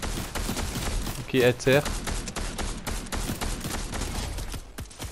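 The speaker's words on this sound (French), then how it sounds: "Y a un mec, il me tire dessus là." An enemy player fires at the player in an online shooter game, producing rapid bursts of gunshots mixed with louder impacts. A player speaks briefly over the shooting.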